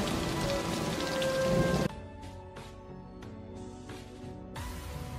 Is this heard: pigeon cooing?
no